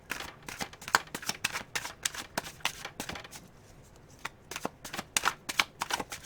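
Tarot cards being shuffled by hand, a quick series of crisp riffling flicks and soft slaps, close and fairly quiet, with a short pause midway before the shuffling resumes.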